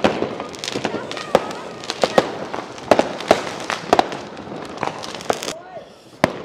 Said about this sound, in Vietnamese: Đấy pháo hoa vẫn chưa ngừng luôn.